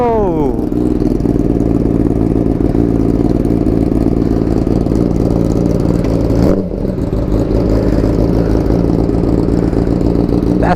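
A 2018 Kawasaki Ninja ZX-6R (ZX636) with an Akrapovic slip-on exhaust revs loudly and close by, its engine note rising and falling in repeated surges with a brief dip midway, filling the whole stretch without pause.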